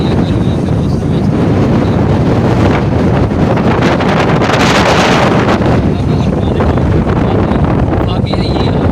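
Cold wind in rain over fields of a Punjab village buffets the microphone in a loud, continuous rushing roar that swells and eases without a break.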